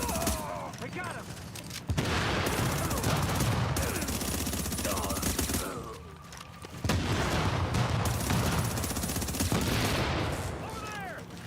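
Sustained automatic turret gunfire in The Division 2 shooter game, dense loud bursts rattling for several seconds, a brief lull, then another long barrage, with a voice speaking over the shooting.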